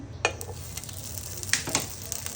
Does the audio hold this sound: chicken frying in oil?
yes